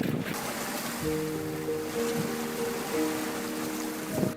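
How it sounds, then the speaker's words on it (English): A boat engine speeds across the open ocean, a steady motor drone with a tonal whine that starts after a moment, buried under loud wind buffeting and rushing water. "Dusty cranks up his engine and speeds the mama otter away to safety."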